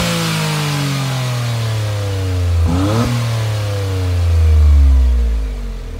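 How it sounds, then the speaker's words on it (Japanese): A Honda S660 engine with a throaty HKS aftermarket exhaust idles, blips, then revs up loudly and falls back, close by with no voices. "うちの嫁の HKS マフラーの音でありました"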